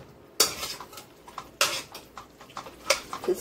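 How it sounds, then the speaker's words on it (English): Spoon stirring a can of cream of chicken soup into noodles in a pot for Cajun-style cream of chicken noodles, with three sharp metal clanks against the pot and softer scraping between them, close and clear. "Now I will be adding my can of soup."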